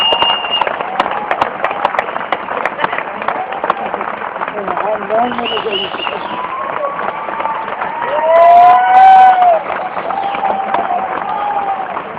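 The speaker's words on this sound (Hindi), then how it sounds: "आपकी जोरदार तालियों के बीच में" A crowd claps and cheers steadily throughout, with voices shouting over the applause and a swell of louder cheering near the end.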